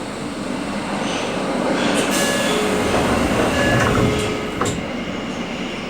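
A Tokyo Metro 01 series chopper-control train rolls out on the Ginza Line from Ueno toward Ueno-hirokoji and runs steadily, a loud continuous rumble of wheels on rails with faint squeals and clatter, no talking.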